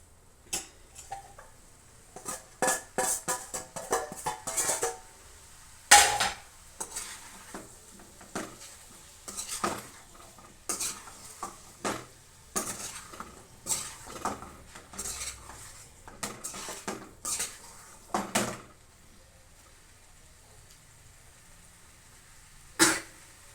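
A spatula stirs a stir fry in a metal pan, producing a long run of irregular clinks and scrapes against the pan, close and clear with a faint sizzle underneath.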